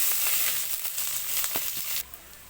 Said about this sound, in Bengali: তার জন্য আমি কড়াইতে পরিমাণ মতো তেল দিয়ে নিলাম। এখন পেঁয়াজ দিয়ে নিব।